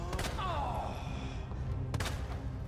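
Two distinct gunshots ring out in Resident Evil 2 Remake, one early and one near the end, each sharp with a ringing tail over a low ambient drone.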